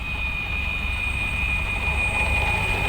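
The electric motors of a homemade flying bicycle run at full throttle, a loud, steady, high-pitched whine over a broad roaring rush, unbroken throughout.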